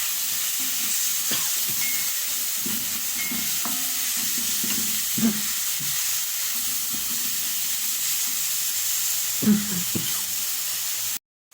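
Tomatoes hit hot spices in a pot while cooking aloo gobi, giving a steady, bright sizzle and hiss broken by occasional stirring clinks and scrapes, with no voices.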